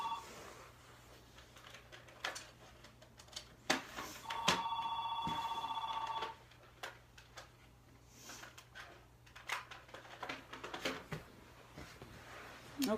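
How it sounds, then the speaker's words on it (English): A telephone rings indoors once, a steady electronic trill lasting about two seconds, amid scattered taps, knocks and handling noises in a quiet room. "I'm going to go shut off the ringer of my phone"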